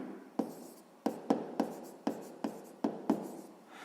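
Chalk taps and scrapes against a board in a run of about eight short strokes, crisp and near, each with a sharp onset and a brief scratchy tail.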